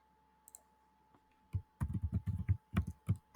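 A computer mouse clicking in quick bursts, sharp close clicks clustered together after a quiet start, over a faint steady hum.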